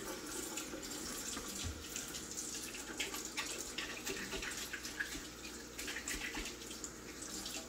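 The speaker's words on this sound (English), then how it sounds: "Rinse the hand." Tap water runs steadily into a sink while hands are rinsed under it, a continuous close splash with faint irregular patters and no talking.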